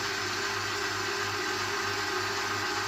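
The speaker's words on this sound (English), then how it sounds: "I'm going to mix it now for about 20 seconds" A Kenwood stand mixer churns cookie dough at a raised speed, giving off a steady, loud motor whir with a low hum that holds unbroken throughout, with no talking.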